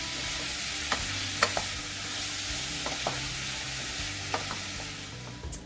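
Onion frying in a pan for an apple balsamic chutney gives a steady, moderately quiet sizzle, with a few sharp crackles and utensil clicks scattered through it and no talking.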